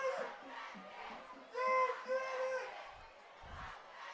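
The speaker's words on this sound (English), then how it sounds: "Cheerleaders cheering to block the kick." Cheerleaders at a high school football game at Landis Field shout a loud, sustained chant to block the kick, rising over the general crowd noise of the stands, with an announcer talking through it.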